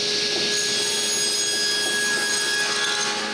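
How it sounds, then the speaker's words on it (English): A power tool cuts the corners off a piece of leftover cedar for a wooden handle, a loud, steady whining hum with rough grinding texture up close, no voices. "After finding the center, I remove the corners."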